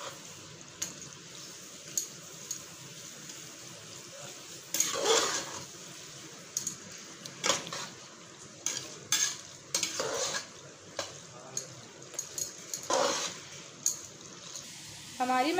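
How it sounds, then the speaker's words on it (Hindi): Spicy vegetable macaroni is mixed into masala in a pan, with a low sizzle broken by irregular bursts of spoon scraping and clattering stirs. "अब हम इसको अच्छे तरीके से मिक्स कर लेंगे।"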